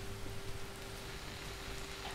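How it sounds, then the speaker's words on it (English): Steady rain hisses in the Slender video game, a faint, even wash of noise with a thin constant tone running underneath and no other sounds. "Just rain."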